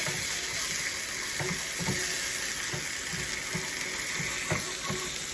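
Homemade sofrito sauteing in a pan, a steady broadband sizzle with soft scraping and stirring knocks scattered through it, continuous and fairly close with no voices.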